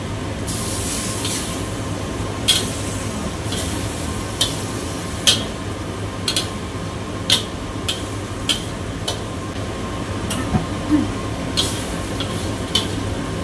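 Boiled then fried eggs simmer in a spice sauce in a pan, with a steady bubbling sizzle and regular spoon or spatula clinks as the sauce is stirred.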